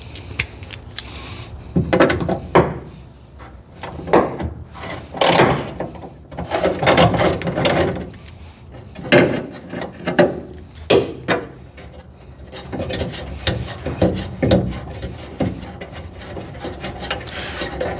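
Ratchet with an extension working a lower bolt loose on a 1968 Camaro, close and moderately loud: repeated bursts of clicking and scraping metal with brief pauses between, and no talking.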